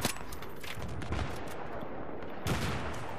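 Gunfire in Battlefield 3, made of sharp repeated shots and bursts at moderate loudness, with a louder volley near the start and another near the end.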